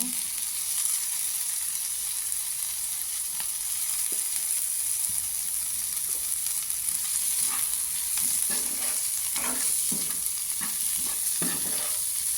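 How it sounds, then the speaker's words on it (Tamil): Onions and tomatoes sautéing in a pan for egg curry, a steady soft sizzle with scattered stirring scrapes and clicks of a spoon against the pan, continuous and close, no voices. "சேர்த்து நல்லா வதக்கி விடுங்க. இப்போ நம்ம வதங்கின இந்த ஸ்டேஜில் தக்காளியை வந்து சேர்த்துக்கொள்ளுங்க."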